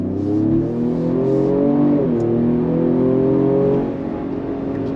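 A Ford Explorer ST midsize performance SUV with a rear-wheel-drive platform accelerates hard on throttle, its engine note climbing steadily in pitch, briefly dipping at a shift, then rising again before easing off.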